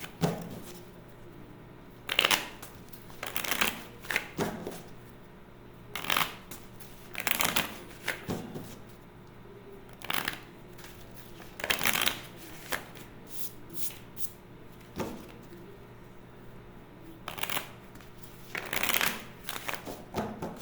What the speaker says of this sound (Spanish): Vamos a sacar 11 cartas.